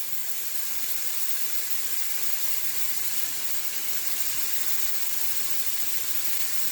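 Steady, dense sizzling hiss of bacon frying in a pan, continuous and close with no pauses or voices.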